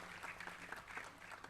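A panel audience claps to welcome Dr. Nitin Yashas, a short, faint burst of scattered applause sounding distant and thin.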